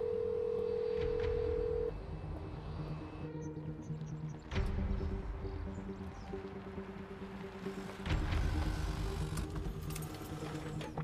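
Phone dialing a call in a French action film, a steady tone then short beeps and tones over a background of car and ambient rumble, faint and mid-distance, with no talking.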